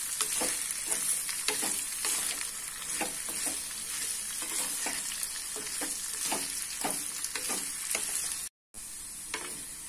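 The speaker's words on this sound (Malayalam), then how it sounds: "1 ടീസ്പൂൺ ഉപ്പും ചേർത്ത് ഇത് നന്നായിട്ടൊന്ന് ഇളക്കാം." A gooseberry pickle mixture with a teaspoon of salt fries in sesame oil while being stirred, a constant sizzle broken by regular scraping and clinking strokes, close up and without talking.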